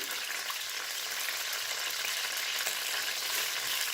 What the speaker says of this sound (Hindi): अब यहाँ इस स्टेज पे मैं आधा कप पानी का ऐड करूँगी और साथ ही 1 कप या सवा कप आप चीनी डाल सकते हैं